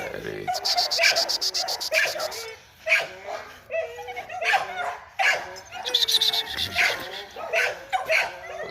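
Bulldogs bark and yip repeatedly close by, mixed with whimpers, while someone talks over them.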